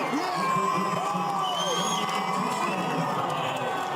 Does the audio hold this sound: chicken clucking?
no